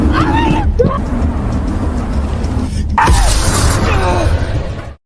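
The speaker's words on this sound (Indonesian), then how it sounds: "Anna berusaha memecahkan kaca mobil itu dengan menggunakan kursi bayi" A baby seat hammers at a car window until the glass smashes, with a sharp broadband crash near one second and another loud impact around three seconds, over a steady low rumble and voices talking throughout.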